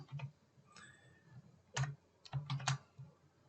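Quiet, close computer keyboard typing in short bursts, with a few isolated key taps followed by a quick cluster of clicks, soft and clear against a near-silent room.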